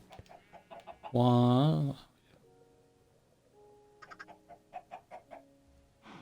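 Chickens cluck in a Minecraft chicken farm, a series of short close clucks before and after a loud sustained cry, with a brief spoken word in between.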